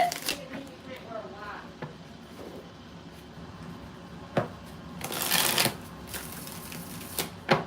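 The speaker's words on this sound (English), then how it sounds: "All right, 4 more shuffles for Kaiser." Tarot cards being shuffled by hand at close range, a run of soft riffling and snapping bursts with a louder flurry near the middle and a few sharp taps toward the end.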